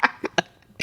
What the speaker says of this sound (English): I'm going to be coughing throughout this episode.